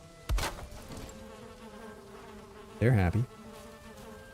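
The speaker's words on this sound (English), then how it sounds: "Let's get our beehive up." Bees from a beehive in the video game Valheim give a soft, continuous buzz beneath brief game sounds, with a short spoken remark over it.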